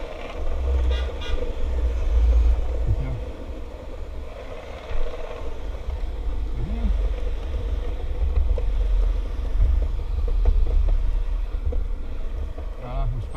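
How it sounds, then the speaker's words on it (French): A car horn toots on a road during a relaxed longboard ride, heard amid steady wind rumble and rolling noise. "il klaxonne"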